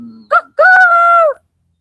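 A human voice imitates a rooster crowing, giving a short lead-in syllable followed by a drawn-out, steady crow, close and loud, ending abruptly into quiet.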